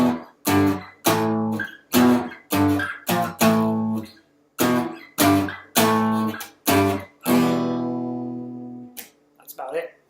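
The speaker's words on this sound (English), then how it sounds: "the main guitar part sounds like this" A main guitar riff played loudly and close on a distorted guitar, with short punchy chord stabs in the familiar rhythm and a long ringing chord held near the end.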